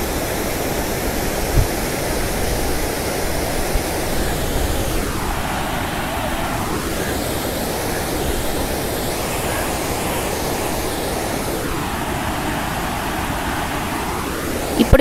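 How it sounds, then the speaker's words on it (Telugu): Strong water flow pouring from overflowing lakes beside a road, a loud steady broadband rush like a waterfall, constant throughout, with two passing vehicle whooshes swelling midway and later. "నీటి ప్రవాహం అధికంగానే వస్తోంది"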